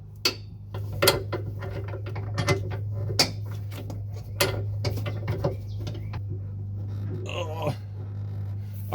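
Racing seat bolts being tightened in a WRX wagon, with scattered close metallic clicks, clanks and taps of tools and hardware in an irregular rhythm, under occasional talk.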